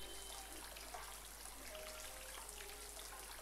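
Rain falls in the Botanicula video game as a faint, steady hiss of drops, a soft wash of pattering with a few light plinks, and it carries on evenly without any talk over it.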